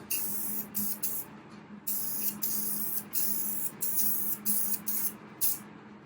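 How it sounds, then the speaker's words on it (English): A paint spray gun lays down a tack coat on a jazz kit guitar body, giving short repeated bursts of bright, airy hiss with brief gaps between passes, close and fairly quiet. "all we're doing is spraying on"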